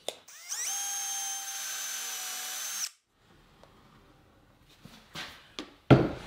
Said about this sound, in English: pre-drill holes for the screws